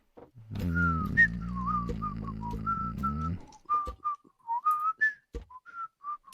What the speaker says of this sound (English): Oh yeah, it's whistling.